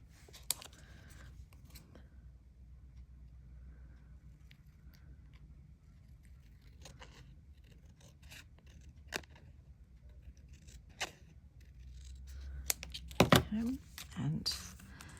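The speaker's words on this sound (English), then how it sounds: "I'm going to trim this first" Scissors trimming metal craft tape in a quiet room, a few scattered crisp snips and rustles, growing busier and louder near the end, with a voice talking at times.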